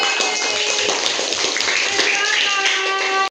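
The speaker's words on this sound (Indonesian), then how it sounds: "Beri dulu tepuk tangan untuk kelompok putih." Applause from a primary-school class for a student group after a hand and skeleton replica demonstration, a steady dense wash of many hands clapping for about three seconds, close and fairly loud.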